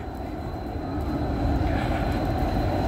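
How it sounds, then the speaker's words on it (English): Tram line 7 pulls into Graz central station in Austria, a heavy low rumble of steel wheels and motors that swells slightly louder as it nears, steady throughout with no voices. "That's that's tram 7 coming from the hospital direct."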